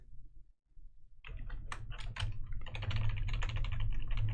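Fast clattering keystrokes on a computer keyboard, starting after a brief quiet and running as a dense, close burst of typing to the end, with no talking.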